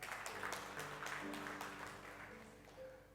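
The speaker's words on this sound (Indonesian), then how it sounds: "Beri tepuk tangan dulu untuk Tuhan" A congregation at a Sunday church service applauds, a soft, distant-sounding clapping wash over sustained held keyboard-like tones that fades slightly toward the end.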